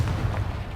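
A Confringo fire spell blasts off in Hogwarts Legacy, a single dense, rumbling burst with heavy low-end boom sustained through a short moment.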